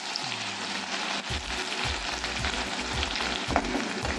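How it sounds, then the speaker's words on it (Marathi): Mustard seeds, cumin and finely chopped onions frying in hot oil for dodka bhaji, a steady close sizzle broken by a rhythmic run of low scraping stirs against the pan, with no talking. "तेल गरम झालेलं आहे तर त्याच्यात राई टाकून घेऊया. जिरे, इथे 2 कांदे घेतले बारीक कापून."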